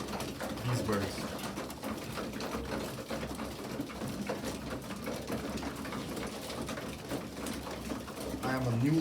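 Loft pigeons feeding after a three-hour flight coo and flutter in a busy, continuous background while someone talks over them.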